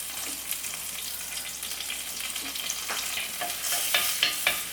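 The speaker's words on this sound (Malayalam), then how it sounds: "എണ്ണ ചൂടായിട്ട് വരുമ്പോൾ ചെറിയുള്ളി ചതച്ചതിട്ട് കൊടുക്കുക." Crushed shallots and curry leaves fry in hot coconut oil in a clay pot, a steady close sizzle with occasional scraping stirs that grow sharper and louder toward the end, no voices.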